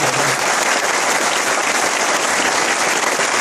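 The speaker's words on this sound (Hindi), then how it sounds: "आपकी तालियां बता रही कि आप बहुत एक्साइटेड हैं" Dense, loud applause from an audience at a sales meeting, a continuous wash of many hands clapping for a few seconds with no pauses.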